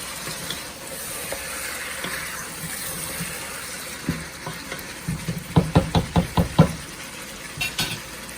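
A spoon stirs curry in a cooking pot while it sizzles steadily, a run of distinct scraping knocks against the pot coming close together near the end, with no talking.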